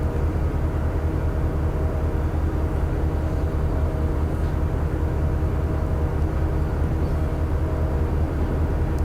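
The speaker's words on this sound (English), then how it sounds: "Speeding down the grade and the brakes are just fighting." Heavy freight train in the Open Rails simulator rolling fast down a grade with brakes straining, a steady loud low rumble and grinding drone running unbroken throughout.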